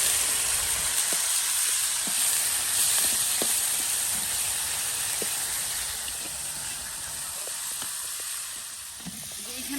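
A steady, close sizzle of greens and onion frying in a pan hisses throughout, with occasional faint clicks of stirring and no talking.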